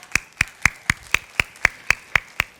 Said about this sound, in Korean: 잘하셨습니다. 박수.